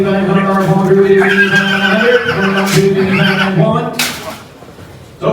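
A horse neighs and whinnies loudly and repeatedly in long, quavering calls at a horse auction, with a chocolate palomino foal in a nearby pen, close by with faint background activity.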